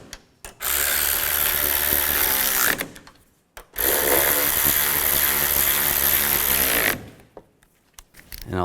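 Power tool tightening front strut mount bolts on a 2005-2010 Chevy Cobalt, two loud sustained whirring bursts of about three seconds each separated by a brief pause, with a short blip at the end.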